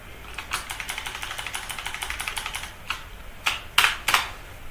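Rapid, even typing on a computer keyboard, a steady patter of light keystrokes that breaks off and ends with a few louder, heavier key presses, close and clear, with no voices.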